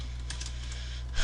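Quick, soft clicks come from typing on a new computer keyboard, a faint burst of keystrokes over a steady low hum with no one speaking.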